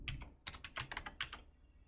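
A quick burst of keystrokes on a computer keyboard, about a dozen soft clicks in an uneven typing rhythm, close and quiet with no voices.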